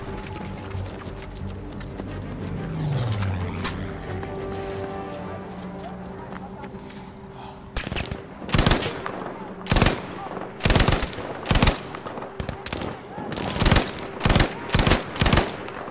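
Gunfire in the Battlefield 5 campaign: after a stretch of engine rumble and game noise, a series of loud, close shots and bursts erupt in uneven clusters, with a player talking over the action.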